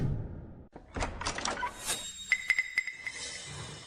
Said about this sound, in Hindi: मैं अभी दरवाजा तोड़ता हूँ।